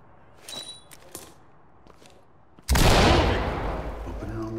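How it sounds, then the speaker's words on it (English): A flashbang in the SWAT game Ready or Not: a few faint clicks and shuffles, then a sudden loud bang with a harsh ringing burst that lingers and fades slowly. "I'm gonna throw a flashbang in."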